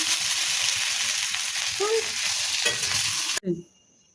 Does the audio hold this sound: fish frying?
yes